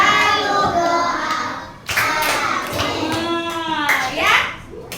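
A few scattered hand claps from children in a classroom during a microteaching lesson on ablution, mixed with children's and a teacher's voices talking over them.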